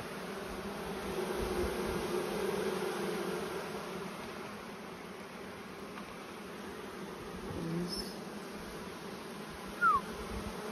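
Honey bees drone in a dense, continuous buzz around an open beehive during an inspection, with individual bees swelling close past the listener now and then, and no talk.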